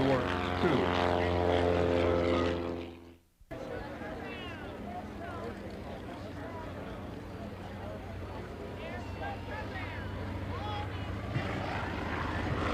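A Johnson Rocket, a fast antique post-war airplane, revs its propeller engine at an antique fly-in with strong harmonic drone, cuts briefly, then continues as a steadier engine roar while an announcer talks over it.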